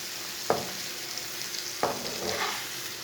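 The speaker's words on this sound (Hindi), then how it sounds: "सब चीज़ों को अच्छी तरह मिक्स करके 2 मिनट तक भून लेंगे।" Spices and tomatoes sizzle steadily in a pan for a ridge gourd curry, a constant close hiss broken by two brief scraping stirs of a spoon.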